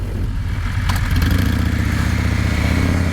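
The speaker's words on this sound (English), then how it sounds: "Engine in this thing, this BMW's S1000RR has always been known as an absolute monster" A BMW S1000RR sport bike accelerates on the road, its engine note building to a loud, steady, buzzing drone that stays close and dense for the whole stretch, with no talking.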